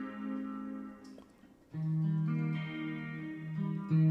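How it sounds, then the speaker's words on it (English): Clean electric guitar notes with a shimmering, swirling effect and reverb tail, playing a slow descending line that sustains throughout. "I got some reverb and maybe like a flanger on there."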